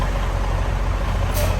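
A tractor-trailer truck manoeuvres through an offset backing drill during CDL practice, its engine running as a steady, loud rumble throughout, with a brief higher hiss near the end like an air-brake release.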